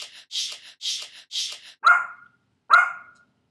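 A puppy gives a quick run of four short barks, then two sharper, louder yips after a brief pause, close by with no talk.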